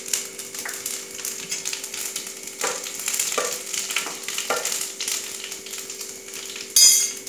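Panch phoron spices sizzle in hot oil in a pan while making tetelir mitha achar, a steady close crackling fry with occasional clinks of a utensil against the pan.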